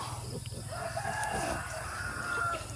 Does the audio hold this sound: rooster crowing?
yes